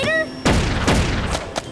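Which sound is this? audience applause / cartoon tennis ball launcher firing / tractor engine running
cartoon tennis ball launcher firing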